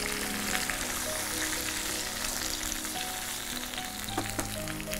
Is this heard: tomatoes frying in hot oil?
yes